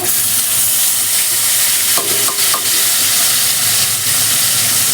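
Tomatoes sizzle and fry in a hot pan for Marathi-style palak dal, a loud steady hiss with a few brief scraping stirs near the middle, no voices.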